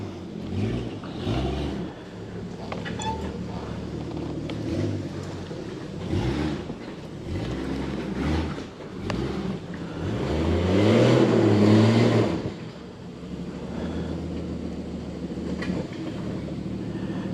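An off-road side-by-side grinds up a steep dirt hill line at Mild 2 Wild in Kentucky, with one tire not digging; a rumbling engine that surges and bogs in uneven revving bursts, peaking loudly before easing off.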